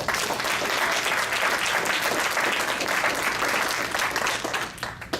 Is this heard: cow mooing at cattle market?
no